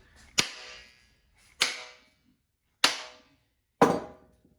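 Four sharp, separate wooden strikes ring out about a second apart as a Council Tool Camp Carver axe is knocked down to seat its head on the handle, each crack fading quickly.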